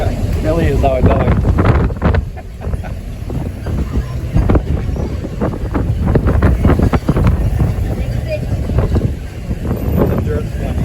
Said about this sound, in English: It's got windy all of a sudden.